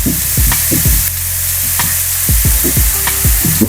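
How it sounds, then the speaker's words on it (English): Italian sausage sizzles steadily in a pan while a utensil scrapes and stirs it in repeated, close strokes, with no talking. "You want to keep mixing it around as you can chop it up so that you don't have big chunks of sausage in your meal."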